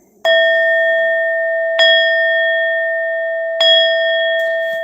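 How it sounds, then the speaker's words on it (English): A bell rings three times at even intervals, each strike a bright, clear clang that lingers with a long ringing tone before the next hit, loud and close. "Ring the bell for the people incarcerated in this country."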